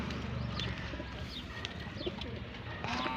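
A black pigeon gives short, low cooing calls close by, with faint chirps from other birds and light background noise.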